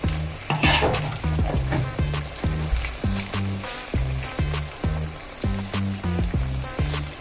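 Small kozhuva anchovies fry in hot oil with a steady, crackling sizzle throughout, while a repeating tonal pattern plays underneath.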